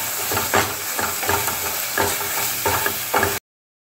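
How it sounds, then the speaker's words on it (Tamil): Tomato pickle sautéing in a pan with turmeric, asafoetida, fenugreek and chilli powders and salt: a steady close sizzle broken by repeated scraping stirs at a regular rhythm, no talk. "இப்போ எல்லாத்தையும் நல்லா வதக்கிக்கணும்."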